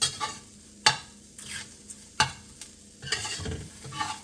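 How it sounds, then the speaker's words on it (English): Ginger and scallions stir-fried into egg-white and dried-scallop fried rice, with soft sizzling under sharp, repeated metal scoops and clanks against the pan at an irregular pace, heard close with no talking. "Also gonna throw in the ginger and the scallions. So just throw that in there as well. Scoop this around a bit."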